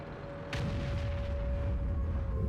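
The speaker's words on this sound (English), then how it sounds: "And there's some more artillery." Artillery fire in the World of Tanks video game: a single sharp boom early on, followed by a rumbling, sustained roar of in-game battle noise.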